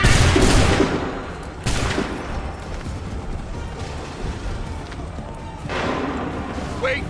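Massed musket volleys in Assassin's Creed 3: a loud burst of gunfire opens, another crackling volley follows a moment later, and a third near the end, with shouted commands and battle noise between them.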